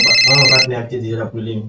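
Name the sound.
telephone ringing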